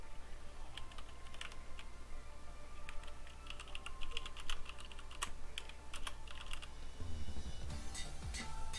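Quick, irregular keystrokes clatter on a computer keyboard while a game item is being renamed, a sparse run of close, crisp clicks that thickens into a busier flurry toward the end.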